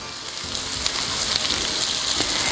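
Sliced onions fry in melted butter, a close, steady sizzle and crackle that holds at an even loudness with faint clicks of stirring.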